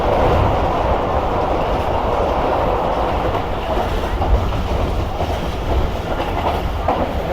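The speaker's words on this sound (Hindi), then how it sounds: "बेहतरीन ज़बरदस्त स्पीड में ट्रेन गुजरी है यहाँ से भाई।" Train rushing past at high speed on the Rehman Baba Express route, beside a national highway: a loud, steady rumbling roar with clattering wheels, sustained throughout with no talk.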